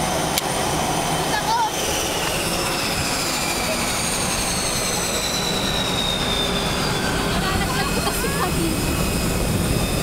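A Cebu Pacific airplane landing in Manila, a loud continuous engine roar and rumbling rush heard from on board, with faint voices underneath.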